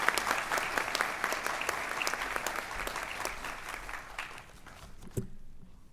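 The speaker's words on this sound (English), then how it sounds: "please join me in a round of applause to Dr." Sustained applause from a graduation audience honoring a faculty member, many hands clapping at a moderate distance, then thinning and stopping with a final sharp clap near the end.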